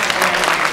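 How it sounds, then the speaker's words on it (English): A church congregation bursts into applause, a brief dense wash of clapping heard up close. "Give them a great big hand clap"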